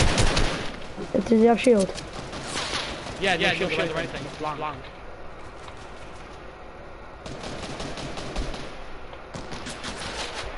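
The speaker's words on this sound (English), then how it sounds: "I need support fire. Keep firing, gang." Bursts of video game gunfire crackle through a tournament practice match, with players talking over the shots and quieter gaps between volleys.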